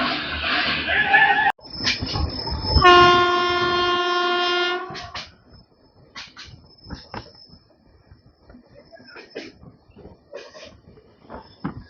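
A train on the Vizag to Araku line in the monsoon season sounds a long, loud horn blast amid rumbling carriage noise, then quieter rhythmic wheel clatter continues over the rails.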